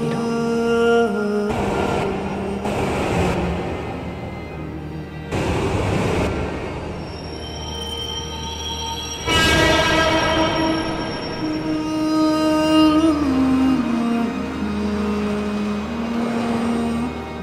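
A subway train pulls into a station platform, a loud rolling rumble with high wheel squeals that swells sharply near the middle and keeps grinding steadily to the end, with no voices.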